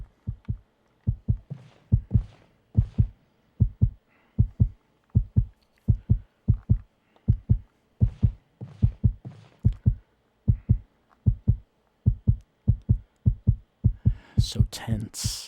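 Heartbeat in an FMV video game, a steady lub-dub pulse repeating about twice per second, loud and close, with faint talk near the end.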